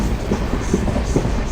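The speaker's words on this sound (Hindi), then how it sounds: "ट्रेन ने अच्छी गति पकड़ी हुई है और उस गति की वजह से बहुत ही धूल उड़ रही है।" Amritsar–Bikaner Superfast Express train running at speed through dusty Rajasthan countryside, a steady loud rumble of wheels with faint rhythmic clickety-clack over rail joints, heard continuously without voices.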